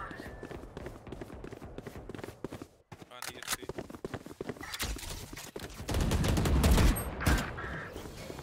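Gunfire from the tactical shooter Valorant, with rapid bursts of shots and clattering footsteps, growing louder and denser near the end, under a busy game soundscape with voices.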